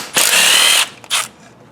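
A power tool runs in a loud, steady burst of about two-thirds of a second, then a second short burst, while backing out two 5/16 bolts from the lower timing cover of a Ford Focus.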